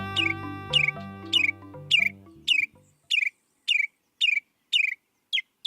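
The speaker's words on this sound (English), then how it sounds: "Northern mockingbirds, the continent's most proficient copycats, can learn to mimic the sounds of just about any other bird within earshot" A northern mockingbird sings short, bright chirping phrases, repeating the same burst about eight times at a steady rhythm, clear and alone after a brief musical passage fades out underneath the first few calls.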